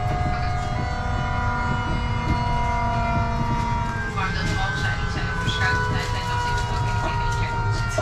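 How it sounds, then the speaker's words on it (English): Loud, constant rumbling noise inside a modern Dutch high-speed train at relatively low speed, with a whining tonal hum and faint rattles throughout. "I was really surprised that such a modern train was making this amount of noise"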